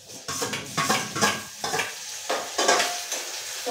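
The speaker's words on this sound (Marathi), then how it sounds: "आता टाकते टमाटर।" Tomatoes added to a frying pan and stirred, a close run of repeated scraping and sizzling strokes with a quick, uneven rhythm, no talk over it.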